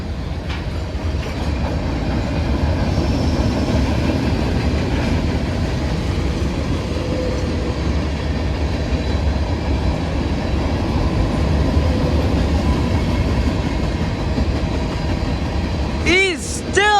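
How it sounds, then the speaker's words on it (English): A CSX freight train of gondola cars rolls past on the Grand Rapids subdivision with a loud, continuous close rumble and rail noise, wheels squealing briefly at the very end. "Two brand new CSX gondolas right there."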